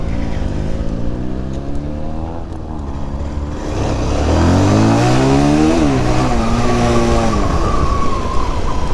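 A Benelli TNT 300 motorcycle fitted with an Akrapovic exhaust revs loudly and close, its engine note climbing and falling through several sweeping blips with a raspy, rising pitch.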